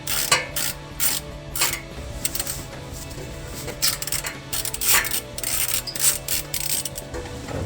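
A wrench ratchets a bolt loose on the exhaust of a 2015-2022 Dodge Challenger 3.6L fitted with an MBRP cat-back system, producing repeated close metallic clicks and rattling turns in uneven bursts.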